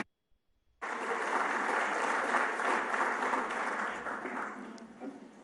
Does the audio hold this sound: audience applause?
yes